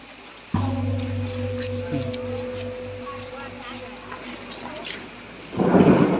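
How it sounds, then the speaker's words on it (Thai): Thunder rumbles with rain outside a temple in Ubon Ratchathani, Thailand, on a crowded holiday. A deep, steady roll sets in abruptly and holds, then swells into a louder, rougher burst near the end. "ฟ้าก็ร้องนะครับ วันนี้ฟ้าร้อง"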